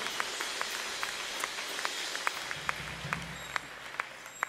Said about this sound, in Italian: facciamo un applauso di benvenuto